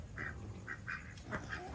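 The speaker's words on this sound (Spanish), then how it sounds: "Por ahí más patos." Ducks quack several times in short nasal bursts, a handful of calls spread over a couple of seconds at moderate distance in an outdoor setting with animals, with no talk over them.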